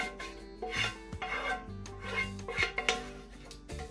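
Baked ziti pasta and meat sauce being stirred in a big pot, with repeated scraping and rubbing strokes of a spoon against the pot in an uneven rhythm, close and moderately loud.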